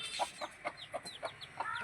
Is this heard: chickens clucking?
yes